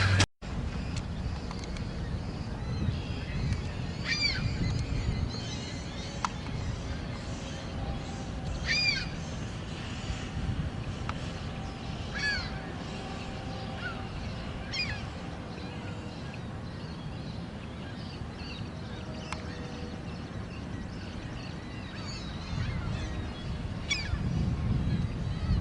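A flock of pest birds, stirred up by a falcon patrol, gives faint, scattered honking calls at intervals over a steady low rumble of wind and background noise.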